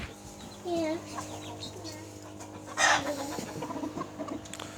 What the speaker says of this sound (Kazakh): Ішінен тауықтар таңдап алайын тұрмын.